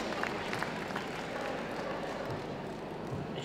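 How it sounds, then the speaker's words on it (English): Steady, dense applause from an audience at a Manchester dog show ring, greeting the four dogs on the final shortlist, fairly faint and continuous throughout with no clear voices. "Big round of applause, ladies and gentlemen, to those four that made the final shortlist."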